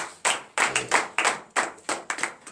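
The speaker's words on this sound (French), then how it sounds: "Donnez l'acclamation à l'Éternel Père de Christ." A small congregation claps in bursts during a morning prayer service in Benin, each burst a quick flurry of hand claps that swells and fades, separated by short gaps, fairly close and otherwise quiet.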